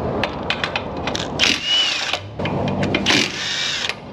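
A power tool loosens the lower ball joint bolts on a Volkswagen in a repair shop, letting out several loud, close whirring bursts separated by short clicks and pauses, with no talking.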